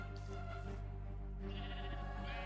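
Sheep in the video game Minecraft give a few clear, bleating calls in quick succession, close and alone, with no talk over them.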